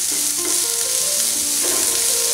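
Mixed vegetables with shredded cabbage and capsicum frying in a pan, a steady close sizzle with faint stirring scrapes throughout, no voices.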